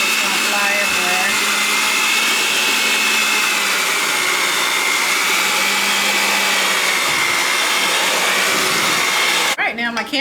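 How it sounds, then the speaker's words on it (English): An electric hand mixer whirs steadily on low while blending cucumber bread batter, a continuous buzzing motor hum close by that cuts off abruptly near the end. "Now we're going to use a mixer. I'm going to start with low."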